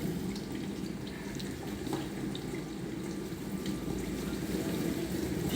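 Water rushes steadily into a Bosch SMV50E10RU dishwasher under repair for humming and not working. The sound is a continuous, even hiss with a low rumble underneath, with no talking.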